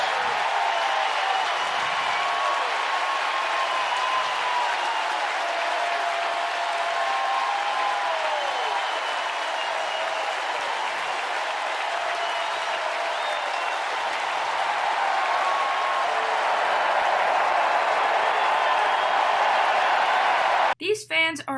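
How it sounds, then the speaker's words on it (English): A large baseball stadium crowd roars and applauds steadily for a home run by Albert Pujols, their former first baseman now on the opposing team, a dense sustained cheer that holds for about twenty seconds before a brief voice at the end. "cheering for their old first baseman who is now on the opposing team"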